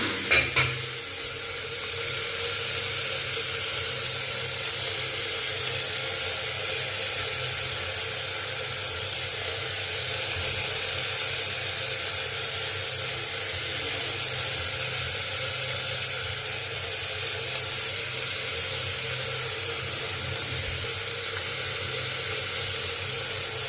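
Tomatoes, chilies and ginger hit hot oil with spices and sizzle loudly and steadily, a dense, continuous frying hiss that runs unbroken after a couple of brief clinks at the start.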